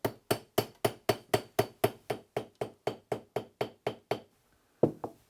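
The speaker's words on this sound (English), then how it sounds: "If you need to adjust the set, surely we use the hammer." A hammer taps the teeth of a saw blade to adjust its set, striking about sixteen sharp, evenly spaced metallic knocks, then a short pause and two more blows, close and loud with no talk.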